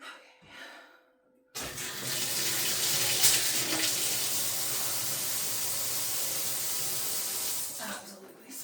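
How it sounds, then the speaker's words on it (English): A leaky faucet sprays water in a strong, steady hissing gush that starts abruptly and runs for several seconds close by, with faint voices before and after. "It's just this faucet is very leaky."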